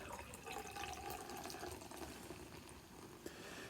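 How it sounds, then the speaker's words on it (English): Toppling Goliath King Sue beer is poured into a glass as a faint, steady liquid rush under a noisy room background. "Give it another pour."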